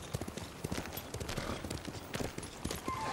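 Horse hooves clip-clop in the Ghost of Tsushima video game, a steady run of sharp close hoofbeats over ambient game noise throughout.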